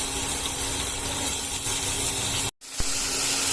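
Chopped onion, chilli, garlic and coriander frying in hot mustard oil, a dense, continuous close hiss that briefly cuts out before resuming.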